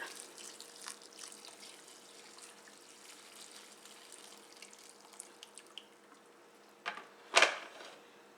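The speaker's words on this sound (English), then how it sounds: "Then drain them and rinse them with cold water." Cold tap water runs steadily into a kitchen sink as food is drained and rinsed, a soft continuous hiss with a few clinks near the end.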